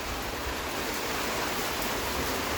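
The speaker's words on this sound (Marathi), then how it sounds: "आणि जोराचा पाऊस लागलाच शेवटी." Heavy rain pours down outside a house, a dense, unbroken hiss of water striking surfaces at a constant level with no voices.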